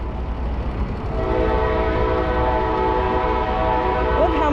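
Several trains, a subway or metro train and a passenger train, pass close by in a long steady loud rumble with a sustained tonal hum and wheel noise, continuing throughout.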